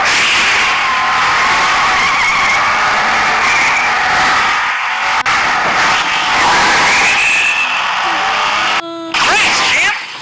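Racing in the Hot Wheels Unlimited video game, with a loud continuous engine roar and tire skids throughout, briefly cutting out near the end, with no one talking.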